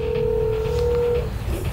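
A phone gives a single steady, low electronic tone lasting about a second, fairly faint against quiet room noise, before it cuts off.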